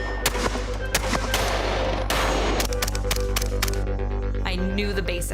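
Gunfire from shooting training at SIG SAUER Academy: loud sharp shots cracking in rapid irregular bursts over a steady heavy rumble, close and dominant.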